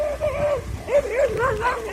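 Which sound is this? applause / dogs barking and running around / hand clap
dogs barking and running around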